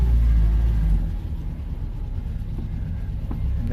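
A Fiat 600, its brakes freshly adjusted and left loose, drives along a road, its low engine rumble and road noise heavy at first, then easing to a steady drone.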